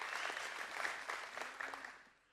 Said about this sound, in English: Can you guys give Connor a round of applause?